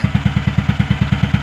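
A Mahindra Jeeto engine with an EGR valve fault runs at idle, thumping in a fast, even rhythm of about eight beats a second, loud and close, with a ticking edge on each pulse and no voices.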